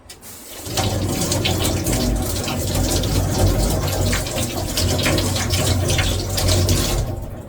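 Water gushes from a tap while something is washed, a steady, close splashing stream that starts after a brief moment, runs loudly and evenly, then cuts off at the end.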